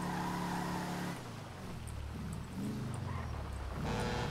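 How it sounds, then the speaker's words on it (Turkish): In GTA V FiveM roleplay, a car engine drones loudly and steadily, with its pitch dipping and rising as the car slows and picks up speed again. "Ben çalıştırdım arabayı."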